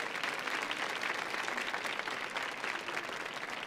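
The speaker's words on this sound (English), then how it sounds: "Can we give her a round of applause" Sustained applause from an audience at a panel event, dense and steady clapping throughout with no pauses.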